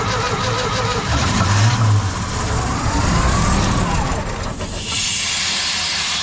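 A Sullair 185 portable air compressor's engine cranks and tries to fire, a loud close rumbling churn with hissing, surging for about five seconds before falling to a steady hiss.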